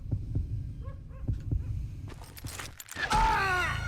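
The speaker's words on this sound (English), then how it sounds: "you hear the heartbeat" A steady, muffled heartbeat thumps during a gunfight duel in Call of Juarez: Gunslinger. The low, rhythmic pulses come in quick pairs, and a sharp burst of louder, noisier game sound follows near the end.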